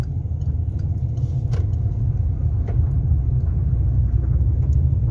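A car eases into light braking and a downshift before a turn during a driving-test practice run, a steady low engine rumble holding close and even throughout with no talk.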